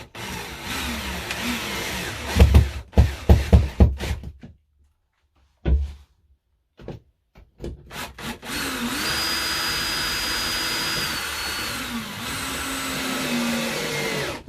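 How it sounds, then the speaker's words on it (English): A cordless power drill drives screws to fix a shelf into plasterboard wall fixings: short bursts and knocks first, then a long, steady, close motor whine that rises and falls in pitch. "So holding it level, just going to screw it up."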